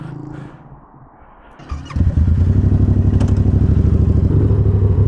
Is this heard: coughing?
no